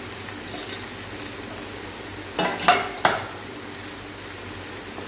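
Dry spices being stirred in a pan for kaju masala, a few scraping and clinking touches of a spoon against the pan, mostly near 2.5–3 seconds, over a quiet background sizzle.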